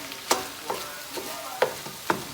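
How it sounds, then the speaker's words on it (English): Shrimp paella is stirred in a sizzling pan, with a soft steady frying hiss broken by four or five distinct scraping strokes of a utensil, close up and fairly quiet, no voices. "what we want to do next is just kind of stir it around"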